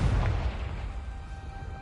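A Confringo blasting spell goes off in a video game with a deep, booming blast that fades away quickly.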